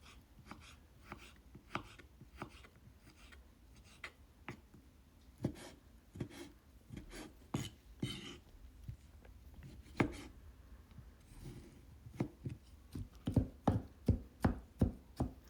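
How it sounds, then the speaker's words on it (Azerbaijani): Chicken fillet being finely diced with a knife on a board: a steady series of sharp, close chops, sparse at first and then quickening into rapid bursts near the end, with no talk. "Filemizi də burada xırda-xırda doğrayıram."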